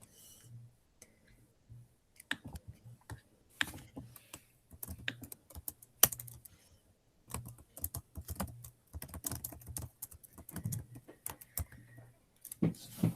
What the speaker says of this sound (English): I hear McCoy typing.